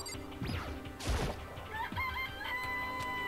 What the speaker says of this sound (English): It's a chicken. It's really alive,